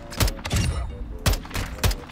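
Sharp DMR rifle shots in Call of Duty DMZ: four loud, punchy reports in an uneven rhythm, each with a brief tail, close and alone with no talk.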